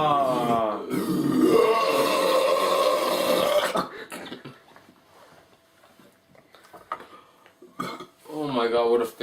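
A long, loud, drawn-out burp after drinking Diet Coke during a two-litre chugging challenge, followed by quieter clinks and shuffling, then another short burst of voice at the end.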